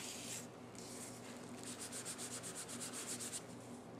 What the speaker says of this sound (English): you're just going to very carefully rub over, and you're taking the ink off of the paint